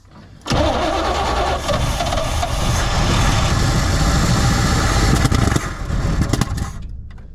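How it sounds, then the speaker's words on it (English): The engine of a 1972 Chevrolet C20 pickup cranks, catches and runs roughly, struggling to settle into an idle, loud and close with uneven surges and no speech. "We'll see if we can't get it to idle."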